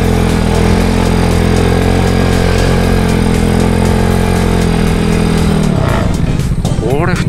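Motorcycle engine in Tochigi drones loud and close at a steady, labouring pitch while climbing a steep hill road, then shifts and eases near the end as a rider begins speaking.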